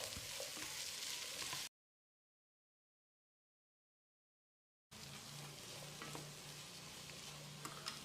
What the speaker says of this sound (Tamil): 2 தக்காளியை நறுக்கி வச்சுருக்கேன். இதை போட்டு 1 நிமிஷம் வதக்கிடலாம்